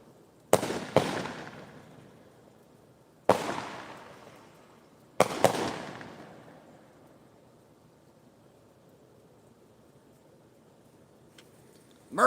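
Fireworks launched outside, heard as three loud bursts a few seconds apart, the first doubled, each trailing off in a long decaying rumble and crackle before near quiet, with another bang just starting at the end.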